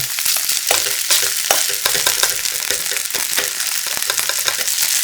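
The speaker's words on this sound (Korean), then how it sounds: "중약불에 팬 올려 기름 충분히 두르고 달궈지면 반죽 충분히 올리고 최대한 동그랗고 납작하게 모양을 잡아주고" Pepper pancake batter fries in a generously oiled pan over medium-low heat, a steady loud sizzle and crackle running throughout with light scraping of a utensil and no talking.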